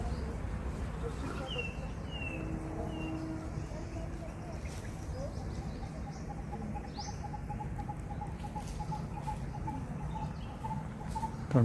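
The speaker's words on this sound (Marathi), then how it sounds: "आपण कुठेतरी पक्षी आवाज देतोय बघा." Birds call around a Konkan village near Khed in Ratnagiri, with faint scattered chirps and a repeating tweet heard at a distance over a soft, steady outdoor background. Near the end there is a brief louder bump.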